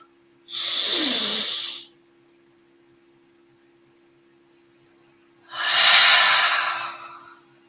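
Two slow, hissing breaths come close to the microphone during a guided wellness exercise, each about a second and a half long with a long silent pause between them, a soft airy breath drawn in through the nose and another released through the mouth.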